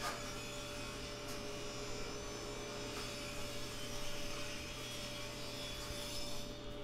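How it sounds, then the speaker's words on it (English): A table saw resaws a board in multiple passes, a steady, dense whine of the blade and motor droning evenly throughout with faint brief knocks, no speech. "I'm just going to the table saw and I'm going to cut this in multiple passes"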